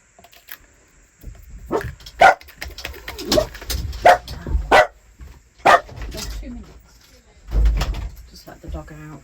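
A dog barks in a series of sharp, loud, irregular barks indoors, with door and cupboard sounds around it and some background talk between barks.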